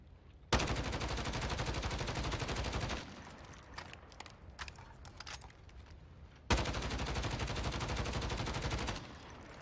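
Stock Grau assault rifle firing full-auto in Warzone, two sustained loud bursts of about two and a half seconds each, separated by a quieter stretch of scattered distant game noise.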